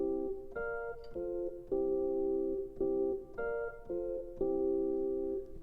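Sustained synth chords change in a steady I–flat VII–IV–I cycle in a major key, each block of notes held for about a beat before shifting, moderately loud and with no voices.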